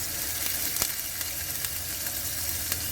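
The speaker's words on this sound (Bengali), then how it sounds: "এই যে এবার তেলের উপরে কালো জিরে দেওয়ার পরে পেঁয়াজটা দিয়ে দিলাম। পেঁয়াজ দিয়ে এটাকে ভালো করে পেঁয়াজটা ভাজবো।" Onions sizzle steadily in hot oil with black cumin seeds, a continuous crackling fry with a few brief clicks as they are stirred, no talking.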